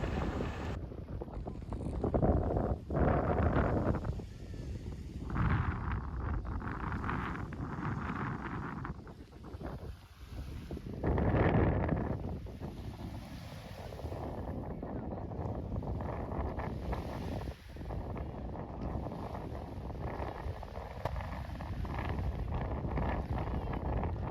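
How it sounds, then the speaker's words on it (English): Strong wind buffets the microphone in heavy gusts, a constant roaring rumble that swells and eases throughout, with faint voices underneath, outdoors at a surf hotel on Lefkada, Greece. "You can hear how windy it is."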